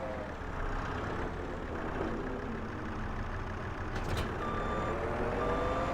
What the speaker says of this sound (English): we also rented this little skid steer here to be able to lift our pallets onto it